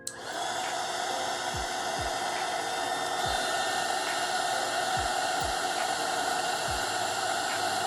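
A heat gun blows a steady, hissing rush of hot air onto a UV DTF sticker on a Libbey glass, unbroken for the whole stretch, with a few soft thumps in the background.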